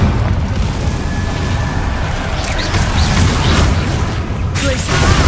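An Incendio fire spell cast in the video game Hogwarts Legacy, a loud roaring whoosh with booming bursts over a dense, continuous rumble of combat.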